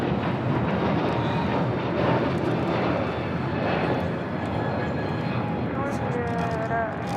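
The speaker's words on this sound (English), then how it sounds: "United Airlines Flight 1312 heading to Newark. It's a 757-200. Next takeoff here on the south side." A United Airlines Boeing 757-200 bound for Newark takes off from the south side at LAX, a loud, steady jet roar that fills the whole stretch, with radio voices talking faintly over it.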